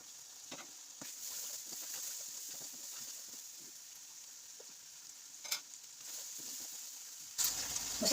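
Spices frying in a pan with onion and ginger garlic paste give a steady, soft sizzle throughout, broken by occasional stirring scrapes and a brief louder clatter near the end.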